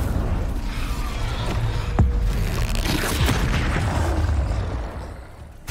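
An Incendio fire spell effect goes off as a heavy boom with crackling, burst-like texture, loud and sustained through the moment before easing off near the end.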